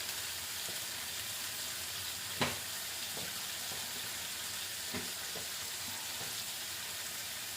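Egg being fried in a pan with an onion and tomato masala, a steady sizzle throughout with a few soft clinks and stirring taps, one sharper clink near the middle.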